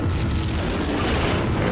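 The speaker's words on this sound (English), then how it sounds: "What the fuck was that explosion?" An explosion in Tomb Raider II sets off a loud, sustained roaring blast with no talk over it.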